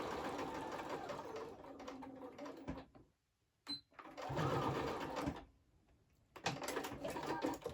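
A sewing machine stitches a fabric wallet in three bursts of close, rapid whirring separated by short pauses, with a faint clack in one gap.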